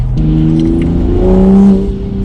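A tuned Toyota Supra with a downpipe, stage 2 tune and straight-piped exhaust accelerates hard, its loud, raspy engine note climbing through a gear change, heard close up from inside the car.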